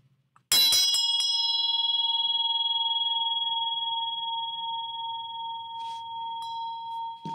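One bell is struck once, with a bright metallic hit that rings on as a long, clear tone, slowly fading for several seconds in an otherwise quiet room.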